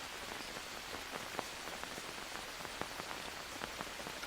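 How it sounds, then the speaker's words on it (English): Steady rain in the survival game Green Hell, a dense, even hiss of rain on surfaces with scattered distinct drops tapping through it, constant and fairly close, with no voices. "raining underneath the cover."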